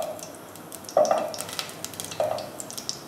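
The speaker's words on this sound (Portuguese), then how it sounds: "vamos deixar a manteiga derreter" Butter with a spoon of olive oil in a pot over medium heat, starting to melt for corn cream, gives soft crackling sizzles, with two brief louder stirring or clinking touches against the pan.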